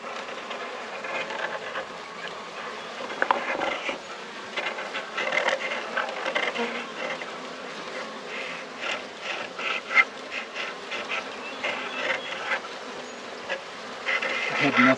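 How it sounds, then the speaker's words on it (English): A package of honeybees being installed into a top bar hive gives off a dense, continuous buzzing swarm sound, fairly close, with scattered bumps and handling noises and no talking. "putting a package of bees in this top bar hive"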